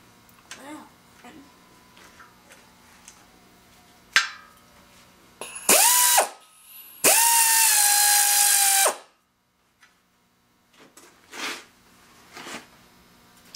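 A power tool running up bolts on an engine under assembly, loud whining bursts rising in pitch, one long spin of about two seconds, between quieter clinks and handling noises on a workbench.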